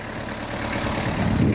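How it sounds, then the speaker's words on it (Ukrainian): A four-cylinder diesel tractor engine idles nearby with a steady, rough low rumble and chugging throb, with no voices over it. "Хай працює, покажу трактора. Житті третій, чотирьохциліндровий, дізельочок"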